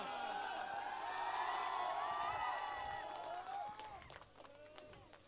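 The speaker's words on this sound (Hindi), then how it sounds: "जोरदार तालियां" Spectators cheer and whistle with scattered claps after a local cricket match, loud and excited at first, then the shouts and whoops thin out and fade.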